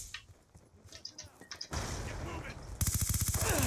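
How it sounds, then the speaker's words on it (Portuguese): Video game gunfire with a suppressed weapon, first scattered shots, then a sustained fast automatic burst that grows louder toward the end. "Opa, tem alguém me atirando."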